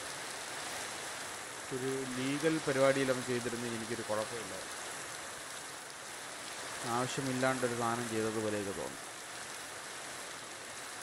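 Rain in a video game sets a constant soft hiss of falling water under the whole stretch, while someone talks over it in two short spells.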